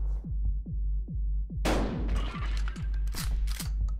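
A shotgun blast in the video game Buckshot Roulette rings out as one sudden loud boom midway, with a spread-out crash and echo over a steady low throbbing background loop and repeated dull thumps.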